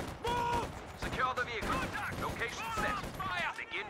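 Machine gun fire in a Company of Heroes 2 battle, rapid bursts crackling steadily under shouted soldier voices and dense battlefield noise.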